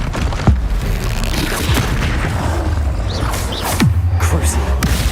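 Expelliarmus spell cast in Hogwarts Legacy, with several deep magical booms and whooshing impacts over a dense layer of game effects and music, loud and close.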